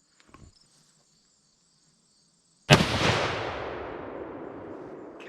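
A single very loud, sharp boom from a 30-06 rifle fired at a 100-yard range, followed by a long echoing decay, after near silence with crickets chirping faintly.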